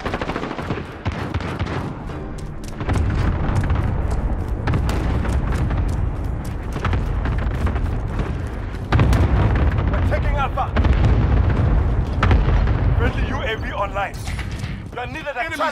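Air strike explosions and heavy gunfire in Call of Duty: Modern Warfare multiplayer, loud dense bursts of rapid shots and booming blasts throughout, with game radio voices talking over the combat.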